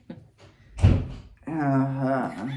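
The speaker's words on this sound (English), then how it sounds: "First door slam of the day." A single heavy door slam lands as one loud, sharp thud indoors, preceded by faint rustling and followed by a person talking.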